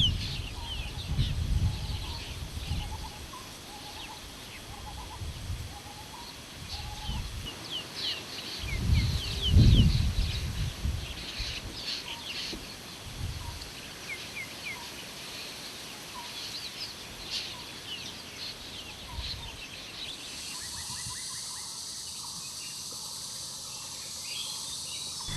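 Wild birds call in Kaziranga National Park in Assam, India, with scattered chirps and repeated notes over a steady outdoor forest ambience and occasional low rumbles, with no voices.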